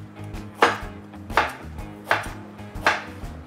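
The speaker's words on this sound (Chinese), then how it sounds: "然后我们姜切姜片" A knife cuts slices of ginger on a cutting board, four evenly spaced crisp chops close by, each with a solid thud of the blade hitting the board.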